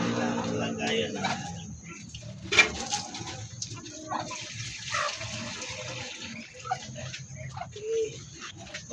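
Water runs and splashes as a chicken drinker is filled in a backyard coop, with pigeons or doves cooing, chickens clucking nearby, and faint voices in the background.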